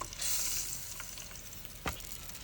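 Steady, soft sizzling of breaded silver carp frying in a hot pan, with a brief clack of a utensil near the end.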